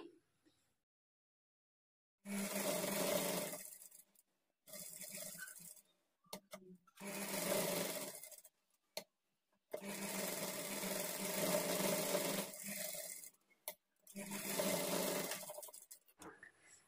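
A sewing machine stitches lining onto a puff sleeve in several separate bursts of a few seconds each, with silent pauses between them. The motor whirrs close and clear, and no one talks.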